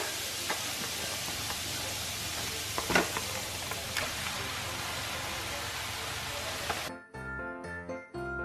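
Beef mince sizzles and fries steadily in a hot pan, a dense continuous crackle that fills most of the stretch before cutting off abruptly near the end.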